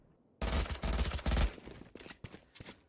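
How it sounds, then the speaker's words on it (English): Bulldog rifle gunfire in a Valorant pro match: a dense burst of rapid shots for about a second, then scattered single shots and short bursts, loud and close with no talk over it. "the force buy still comes through here for TENZ with the Bulldog and still gets the opening frag"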